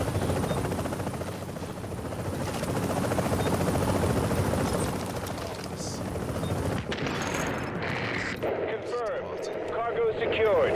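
An extraction helicopter in the Tom Clancy's The Division Dark Zone, a steady rotor drone and whine that swells as it approaches, with gunfire and other game noise mixed in and a voice near the end.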